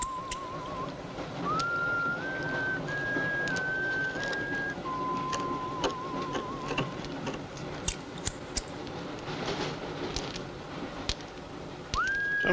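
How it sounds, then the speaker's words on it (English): Someone whistles a movie theme tune: a clear melodic line of sustained, stepping notes with pauses, carried over a busy background of clicks and room noise for about twelve seconds. "Dum-da-dum, whistling the theme for the movie."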